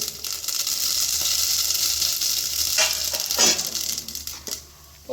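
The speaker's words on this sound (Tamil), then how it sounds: "எண்ணெய் காஞ்சிச்சுன்னா டக்குன்னு செவந்துடும் வெந்தயம்" Fenugreek seeds and shallots fry in hot oil for a whole fish curry, making a loud continuous sizzle with a few stirring scrapes and crackles, close and without speech.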